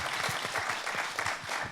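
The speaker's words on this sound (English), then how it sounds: "Why don't we give them a round of applause first" An audience breaks into a short round of applause at a talk on Asian masculinity and resilience, a steady wash of many hands clapping at once, fairly loud and continuous throughout.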